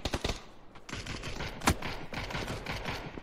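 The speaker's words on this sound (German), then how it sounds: "seine Mates schießen auf ihn" Bursts of gunfire in PUBG during a custom game match, quick rattling shots fairly faint and distant, with one sharper, louder crack partway through.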